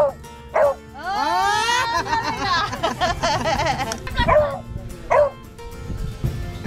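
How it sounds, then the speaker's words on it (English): A dog barks and yips in short bursts with whimpering, whiny vocalizations between them, close and fairly loud, while people count aloud nearby in a windy outdoor setting. "So that is Richie, the smart dog."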